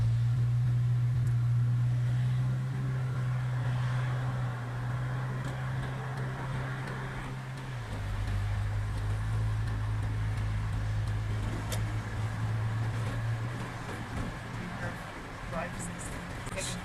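A car is driven through a DMV road test, its engine hum steady and low with a gear or speed shift partway through, while an examiner and driver talk intermittently over the cabin drone.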